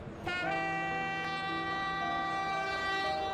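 An arriving train's horn blares with sustained harmonic tones, steady and loud, holding for several seconds close by.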